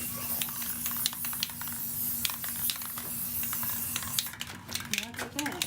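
Spray paint goes onto a hula hoop frame in repeated short hissing bursts, close and fairly steady, with a quick flurry of sprays toward the end.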